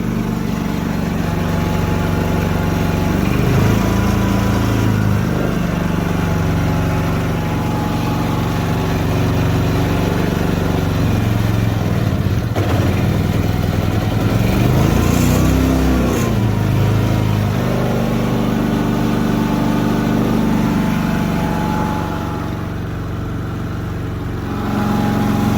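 A small engine cold-started at -20C runs steadily and loudly up close, a rough, buzzing idle with a couple of brief revs that swell and fall back, with no voices over it.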